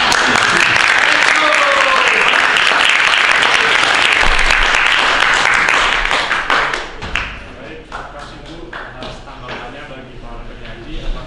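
Audience applause at a school event, a dense, loud burst of clapping that fills the first six seconds and then thins into scattered, uneven claps as it dies down.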